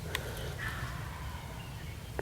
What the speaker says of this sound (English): the last time they gobbled, it sounded like they were coming